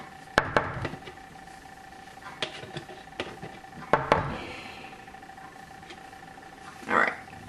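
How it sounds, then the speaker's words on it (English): Yeast scraped out of a bowl with a utensil, giving sharp knocks and clinks against the bowl followed by a brief scraping rasp and a later soft swipe, close up, with a few quiet pauses between. "I'm going to make sure that I scrape out all that yeast."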